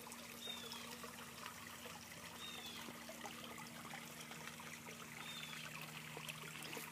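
Faint, steady trickling of water from a working backyard pond beside a private seating area at a Merritt Island house, a soft continuous outdoor wash with a low hum underneath.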